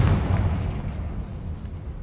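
Confringo spell explosion in the video game Hogwarts Legacy: a single loud booming blast that rolls off into a fading low rumble, with no talking.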